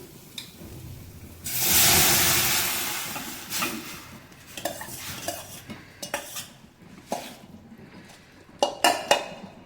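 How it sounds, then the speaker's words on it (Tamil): Shredded cabbage tipped into a pan of fried onions, a loud broad rush as it lands, followed by a series of scattered scraping stirs and sharp clinks of a utensil against the metal pan, with no voices. "இப்போ நல்லா வெங்காயம் நல்லா ஃப்ரை ஆகிடுச்சு இப்போ நம்ம முட்டைக்கோஸ் எடுத்து இதில் ஊற்றிடலாம்"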